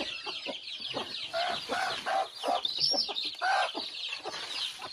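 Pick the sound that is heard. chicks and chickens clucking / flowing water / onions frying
chicks and chickens clucking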